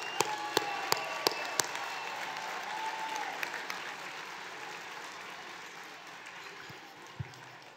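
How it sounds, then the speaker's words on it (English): Gala audience in a full banquet room applauding, a dense wash of clapping with a few sharp louder claps near the start, gradually tapering as it continues. "one more round of applause for everybody"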